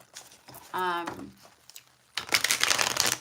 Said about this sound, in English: let me go ahead and get a shuffle in here